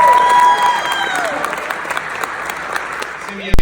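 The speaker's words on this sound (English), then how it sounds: "Clap it up for them one more time." An audience at a high school TRIO program event claps strongly at first, the applause thinning gradually, with crowd murmur and faint voices underneath, and a brief louder knock near the end.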